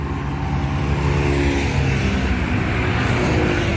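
Traffic roars past on Mindanao Extension, with cars and trucks rushing by close and loud in a continuous surge of engine and tyre noise.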